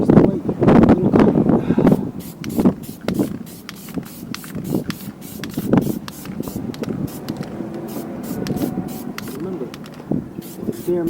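Black spray paint going onto bare metal on an Ariens Sno-Tek 24 snow blower, heard as short, close hissing bursts repeated in quick succession, with someone talking over parts of it.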